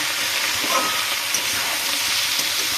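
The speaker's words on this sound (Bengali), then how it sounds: "তেল ও পেঁয়াজে একটু ভাজার পর নুন আর হলুদটা দিয়ে একটু ভাজা ভাজা করে নেব" Steady, bright sizzling of onions frying in hot oil, close up and continuous, with faint crackles and no talking.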